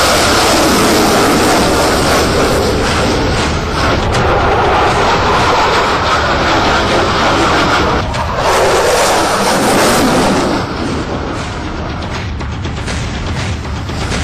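An F-16 fighter jet flies over the Aero India 2017 air show, a loud, continuous broadband jet roar that holds steady for most of the stretch and eases slightly near the end.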